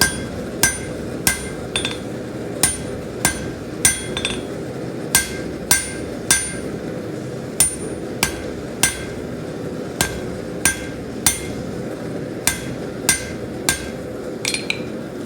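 A blacksmith hammers a quick point taper on hot metal, sharp ringing blows landing in a steady rhythm of roughly two a second, close and loud with a low background hum and no talk.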